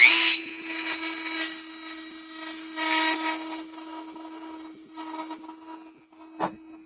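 A power grinder works over the edge of landing gear mounts, a steady close whine with a constant hum that swells and fades as pressure changes, ending in a sharp clank.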